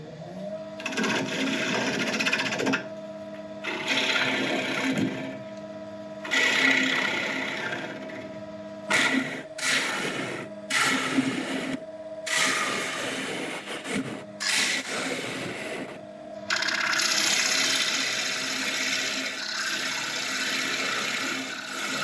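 An elm bowl is hollowed out on a wood lathe toward the hole left for the worm screw, the tool cutting in repeated bursts with brief pauses between passes over a steady motor whine.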